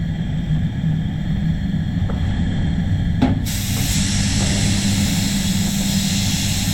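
An Iwata Supernova spray gun spraying clear coat, a loud continuous airy hiss over low rumble, with a sharp click before the spray brightens and holds steady.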